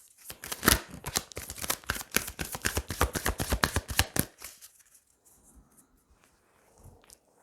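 Tarot cards being shuffled by hand, a dense run of quick crisp riffling flicks for about four seconds, close and clear, then fading to near silence.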